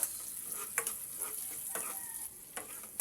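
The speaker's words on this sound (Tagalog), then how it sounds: "Gigisa tayo ng bawang." Garlic and onion sautéing in a pan for a mung bean dish: a steady, close sizzle with a few sharp scrapes and taps from stirring, and no voices.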